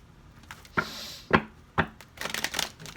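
A deck of playing cards being shuffled in a quiet room, with several sharp riffling bursts and a final longer flurry of card noise, close and moderately loud, with no voices.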